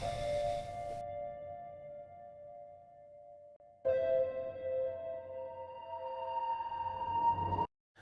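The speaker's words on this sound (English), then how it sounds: "me bouncing out a note from the alt grand piano and then reversing it." A single grand piano note played then reversed, swelling in as a sustained tone that cuts off abruptly, forming a transitional ending; a held tone first, then a brief gap before the louder reversed swell, with no talking.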